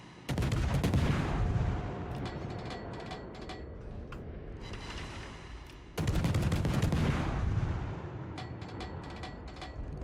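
Warship guns fire shells in World of Warships, aboard the USS San Diego: two loud, booming salvos roughly six seconds apart, each followed by a rumbling decay and scattered crackling reports.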